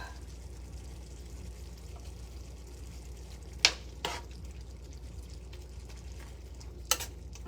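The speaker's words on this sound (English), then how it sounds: "I'm just gonna flip the shrimp" Shrimp fry quietly in a skillet with a soft, steady sizzle, broken by a few sharp clicks as they are flipped.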